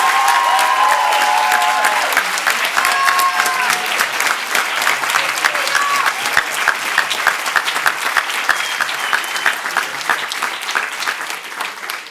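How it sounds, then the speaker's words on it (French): An audience at a high school debate competition applauds the participants, loud dense clapping that carries on steadily for twelve seconds with a faint bit of voice early on. "Yanis, Alice, Omran et Stanislas, qu'on peut applaudir très fort."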